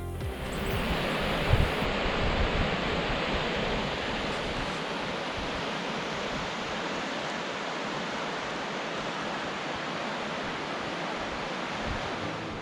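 The Animas River near Silverton, Colorado flows with a steady, full rushing roar, continuous and close, with no voices over it.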